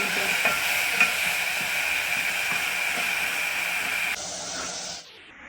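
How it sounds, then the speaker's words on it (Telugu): Fenugreek leaves and garlic fry in hot oil with a steady, fairly loud hiss and faint stirring ticks; the sizzle drops away sharply near the end, and no one speaks. "దీంట్లో మెంతిలో ఒక 2 to 3 minutes వేపుకోవాలండి."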